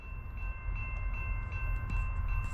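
A CSX freight train rumbles past nearby with a steady low roar, rhythmic wheel clatter and a faint tonal whine, with no voices.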